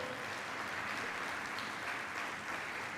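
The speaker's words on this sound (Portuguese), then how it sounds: "Dá um glória a Deus, um aplauso ao Senhor bem forte" Strong congregational applause for the Lord during a family church service, a dense continuous clapping wash held for about three seconds with no voices over it.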